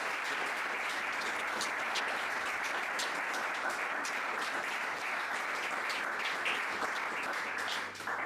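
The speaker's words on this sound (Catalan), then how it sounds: "Un aplaudiment als nostres." Dense audience applause at a sports talk event in Tremp, steady and even throughout the clip with no voices over it.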